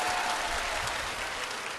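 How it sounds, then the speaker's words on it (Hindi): An audience at a Hindi-language religious gathering claps loudly, with dense, steady applause that continues throughout without easing. "तो एक बार जोरदार ताली बजाओ।"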